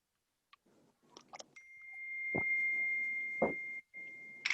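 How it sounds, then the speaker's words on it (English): Phone alert: a sustained electronic tone holding steady for about two seconds, cut briefly and then resuming, with a few short chirps before it and two sharp knocks partway through, in a quiet room. "What is that sound? It's my phone."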